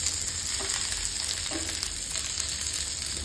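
Homemade fish fingers fry in hot oil with a loud, constant sizzle and bursts of spattering crackle, close by.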